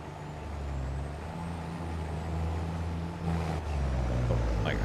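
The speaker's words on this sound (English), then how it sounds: "Oh, like, I hear a truck." A truck in Farming Simulator 22 rolls in with a low, steady engine drone, followed by a sharp air brake hiss near the end.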